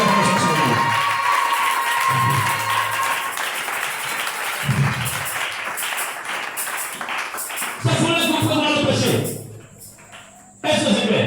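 A church congregation at a French-language service cheering and applauding loudly and continuously, mixed with voices, before the noise drops away briefly near the end.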